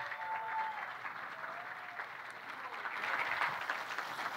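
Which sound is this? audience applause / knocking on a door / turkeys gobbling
audience applause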